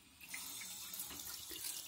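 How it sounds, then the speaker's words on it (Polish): A small bidet tap beside a Turkish squat toilet pours water in a steady, quiet stream into a bathroom, splashing softly and evenly throughout, with no talking. "Leci nam wtedy tutaj woda"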